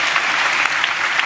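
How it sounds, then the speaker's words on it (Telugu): A church congregation claps together in praise during a sermon, a dense, steady burst of many hands filling the room with no voices over it. "చప్పట్లు కొడుతూ స్తోత్రాలు చెప్దాం"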